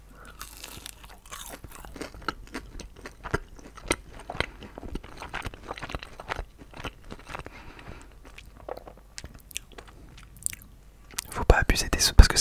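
Crispy breaded McDonald's chicken nuggets crunch under close-miked chewing, with a steady run of crisp bites and mastication and a louder, denser stretch at the very end.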